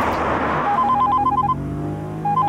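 A phone rings in short repeated electronic bursts over road and engine noise, with a brief pause before the ringing starts again.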